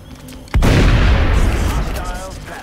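A single heavy shotgun blast in the turn-based strategy game XCOM, a sharp loud boom with a long rumbling tail that fades over two seconds, heard alone.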